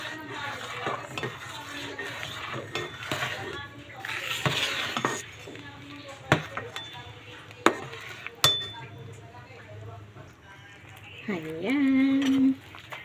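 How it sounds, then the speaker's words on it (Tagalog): A spoon stirs champorado, a chocolate rice porridge, in a metal pot, scraping and clinking against the sides in irregular strokes with some sharp knocks, while a person talks at times in the background. "Haluin natin."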